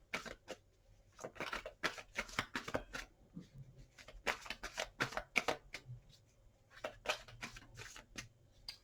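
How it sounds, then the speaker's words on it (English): Tarot cards are shuffled by hand in quiet, crisp bursts of riffling and slapping, several separate shuffles with brief pauses between them, close and fairly soft. "Three shuffles."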